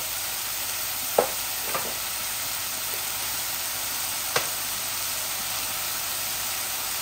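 Onions and bay leaves sizzle steadily in oil in a frying pan for a prawn and greens dish, a constant close hiss with a few soft clinks of a spoon stirring.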